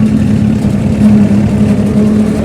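A tractor engine accelerating in third gear while towing a loaded trailer of firewood, a steady loud mid-low drone with a strong humming tone, close and continuous with no talk.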